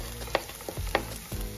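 Onion frying in a pan for a seafood dish in Padang sauce, a steady close sizzle broken by several scraping stirs and clanks of the utensil, with no talking.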